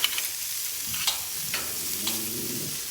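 Shrimp sizzle steadily on a hot Monument grill with a broad hiss throughout, punctuated by a few scraping and turning sounds as a spatula loosens and flips them.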